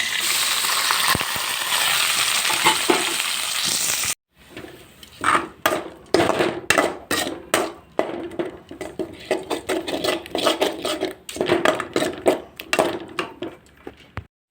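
Ground onion paste hits hot oil already holding cinnamon, fennel, cloves and cardamom; a steady loud sizzle gives way to intermittent scraping and clattering of a spoon stirring in the pan.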